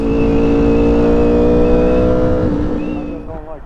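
Ducati motorcycle engine running smoothly while riding, a loud steady drone that holds through most of the stretch before easing off toward the end, with a voice faintly present.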